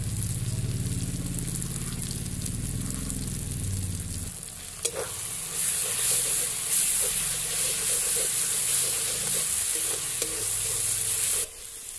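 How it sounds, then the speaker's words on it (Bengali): Ground spice paste for mint chicken sautéing in a pan, a steady frying sizzle that brightens into louder hissing, with occasional stirring knocks. "ভালো করে মশলাটা কষে নেব।"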